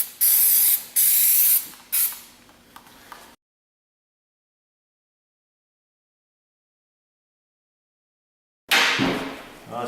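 Cleaner sprayed onto Ford Fiesta transmission parts during a clutch replacement: several loud, close hissing bursts in quick succession, then silence, then another long hiss near the end.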